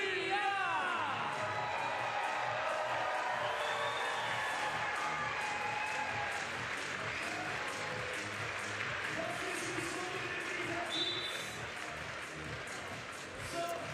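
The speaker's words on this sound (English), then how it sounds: "You heard the crowd, they're excited." Crowd at a FIBA 3x3 women's basketball event in Vienna cheers and applauds as a team is introduced, a broad, moderately distant roar with whoops, continuing steadily for about fourteen seconds.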